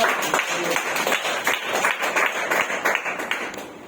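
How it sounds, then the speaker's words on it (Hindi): Loud, continuous clapping from a large audience at a Vestige company anniversary gathering, a thick, even roar of many hands throughout. "तो जोरदार ताली बजा सकते हो"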